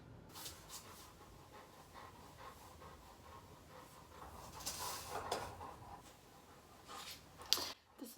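A dog pants with loud, rhythmic breathing close by, a quiet, steady hiss of quick breaths with a few sharper bursts toward the end.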